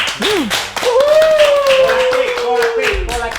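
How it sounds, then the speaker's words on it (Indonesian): A small group claps at the close of a casual creator talk show. Brief claps sound under prominent voices that rise and glide, with a low thump near the end. "Tepuk tangan"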